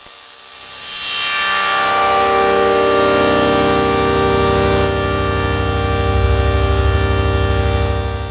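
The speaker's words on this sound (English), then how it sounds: "we can now play chords with a high pass filter" Sustained synthesizer chords in 4-voice mode through a high-pass filter with a bright, thin tone, a filter sweep opening at the start, then held notes droning steadily without voices.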